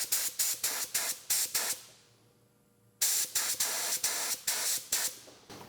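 A paint spray gun sprays water onto a hanging piece of cardboard in short, loud hissing bursts, about eight in a steady rhythm, then a pause of near silence before another run of bursts.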